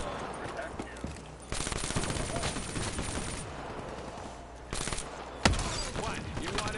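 Call of Duty Zombies gunfire: bursts of rapid automatic shots come in loud clusters with quieter gaps, and one sharp louder blast lands near the end, with no talk over it.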